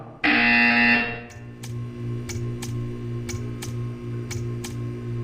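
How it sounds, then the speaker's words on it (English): A loud, harsh electronic buzzer in Portal 2 blares for about a second, then stops, leaving a steady hum broken by faint rhythmic ticks. "You will hear a buzzer."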